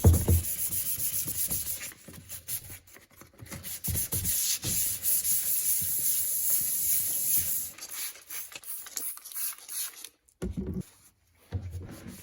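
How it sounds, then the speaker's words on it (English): Sandpaper rubs back and forth over a foggy, oxidized car headlight, a close, raspy scraping in rapid strokes that ends in a few short final passes. "You don't want to sand the whole headlight, but focus mostly on the faded and oxidized areas."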